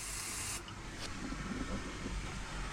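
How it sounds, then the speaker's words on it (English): A cleaning product sprays from a bottle in a steady hissing spray lasting about half a second, followed by a brief second puff, then low background rumble, aboard a motor yacht. "whip the top off and simply spray it on it"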